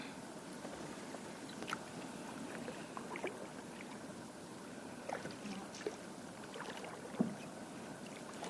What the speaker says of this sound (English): So we've been paddling for about 15 minutes.